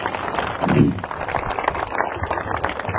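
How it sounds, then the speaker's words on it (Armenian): Audience applause at a gathering in Martiros village, Armenia, a steady mass of clapping from a crowd filling the whole stretch with one brief louder swell near the start. "այ ուզում եմ դրան ծափահարենք բոլորից միասին"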